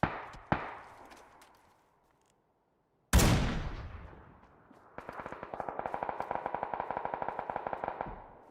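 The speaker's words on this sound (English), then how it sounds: "A lot of fire back there, but there was also like suppressed sniper over here left." Gunfire in the battle royale game PUBG: a couple of single shots, then a loud close blast that echoes away, followed by a long rapid burst of automatic fire.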